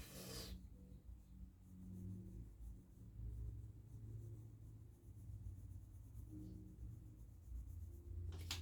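A pencil shades a portrait sketch on paper in soft, continuous rubbing strokes, faint and close, with quiet rhythmic scratching and no voices.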